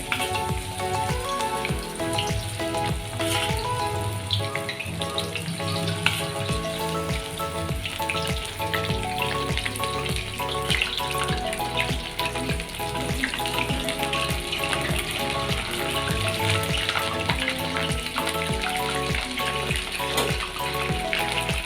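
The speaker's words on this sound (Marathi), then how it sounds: "तेल आहे आपलं गरम झालं आहे आपण हे तळून घेऊयात" Soybean chunks deep-frying in hot oil, a dense, steady sizzle and crackle that runs unbroken and fairly loud throughout, with no talking.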